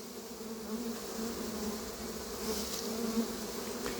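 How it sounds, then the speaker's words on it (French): A honeybee swarm buzzing steadily, a dense continuous drone of many bees close by, moderately loud and unbroken, with no voices. "c'est un très bel essaim"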